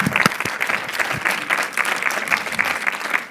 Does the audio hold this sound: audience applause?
yes